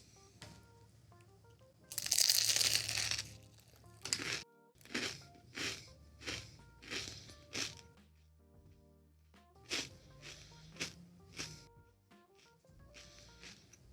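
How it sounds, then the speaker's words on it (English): Crisp crunches of a bite into a very flaky, thin chocolate-filled pastry, a burst of crackling followed by a series of rhythmic chewing crunches, close and fairly quiet. "I'm going to assume you heard that crunch. It's a very flaky, very thin pastry."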